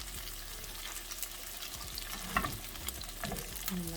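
Brassicas sautéing in a skillet beside steelhead trout, a soft, steady fry and sizzle with scattered clinks and stirring noises, fairly quiet and without speech.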